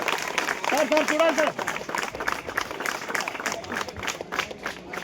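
A crowd claps in quick, uneven bursts at a public youth-development gathering, with the clapping close and fairly loud while someone speaks over the start.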